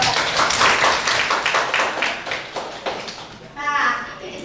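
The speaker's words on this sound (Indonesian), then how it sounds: "Ya, tepuk tangan buat Kak." Classroom applause for a presenter at a school, a burst of quick overlapping claps from a group of children, steady for a few seconds, with a voice speaking over the end.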